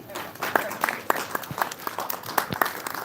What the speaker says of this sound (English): really give your guys' selves a round of applause